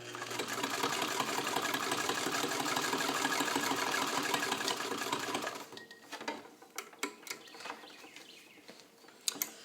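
A restored Singer 66 Centennial all-metal sewing machine stitches through leather with a steady, even whirring hum that runs for several seconds and then stops, leaving a few faint clicks and taps of the machine settling.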